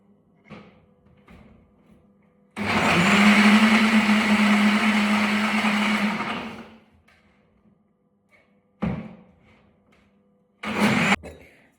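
A kitchen blender whirs loudly for about four seconds while grinding a dates mixture. Short, sharp pulse bursts and a few clunks follow after pauses.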